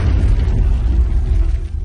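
A loud, deep boom of an explosion with heavy low rumble sustained throughout, close and powerful, no voices.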